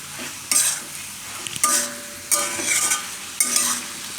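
A spoon stirs mushroom curry with coriander and tomato ketchup in a sizzling pan. Four distinct bursts of scraping and mixing rise over a quiet, steady frying hiss.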